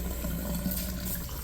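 Tap water runs and gurgles through a glass laboratory pipet as it is rinsed at a sink, a soft, continuous trickle and splash at moderate distance with no talking.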